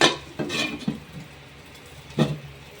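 A pot lid clatters onto a pot while appam cooks on a low flame, a few short metallic clinks and knocks, fairly faint and close, with no voices.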